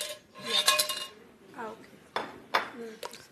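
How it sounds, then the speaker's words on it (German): Pans and metal trays knock and clink in a kitchen during a cooking demonstration, several sharp clatters spaced over a few seconds, with a voice talking faintly among them. "Schau, da ist noch eine Pfanne für unten."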